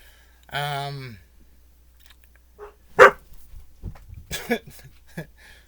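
A dog gives a single short bark, followed by scattered softer yips and clicks in a quiet room, with bits of voice.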